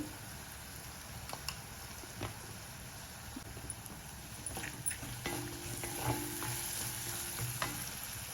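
Sprouts and green peas fry in oil in a pan with a soft, steady sizzle. A spoon stirs the pan and clicks against it now and then, and the sizzle grows a little louder toward the end.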